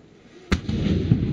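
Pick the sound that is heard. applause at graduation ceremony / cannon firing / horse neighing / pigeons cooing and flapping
cannon firing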